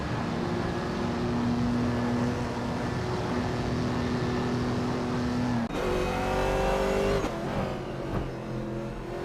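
Race cars, among them a 1961 MG MGA roadster, drone steadily around a circuit, with a sustained engine whine that shifts abruptly as cars pass and change gear.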